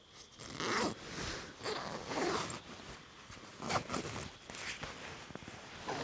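A jacket zipper on a Swiss M70 Alpenflage jacket is pulled open in several rasping strokes, close by, with fabric rustling between the pulls.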